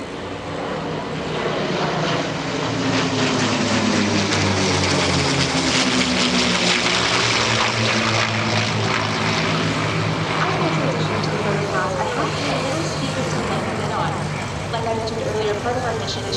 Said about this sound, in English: we have one B-model Mustang flying today